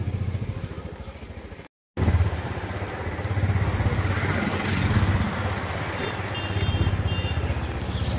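A motorcycle cruises through town on a morning ride during puja festivities, its engine a steady droning rumble with wind rush. There is a brief cut-out near the start, then the drone continues evenly.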